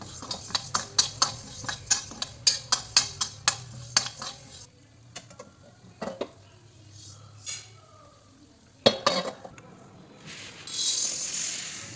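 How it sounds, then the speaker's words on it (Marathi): Urad dal being dry roasted in a pan and stirred, a quick run of sharp spoon scrapes and clinks against the metal, then sparser stirring knocks with a faint sizzle near the end. "आता उडीद डाळ भाजायचं आहे हाताला गरम लागेपर्यंतच भाजायचं आहे"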